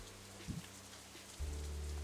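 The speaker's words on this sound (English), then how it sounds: "Instead, the rain seems to increase." Rain patters steadily in the Katawa Shoujo visual novel, a soft, even hiss of drops on surfaces, with a low hum that swells near the end as the downpour seems to grow.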